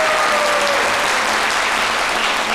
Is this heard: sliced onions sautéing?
no